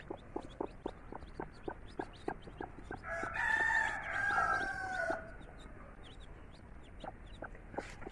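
An Aseel hen with newly hatched chicks sits among farmyard fowl as a rooster crows loudly midway, set against steady, rhythmic clucking and faint chirps that run the whole time, with no one speaking.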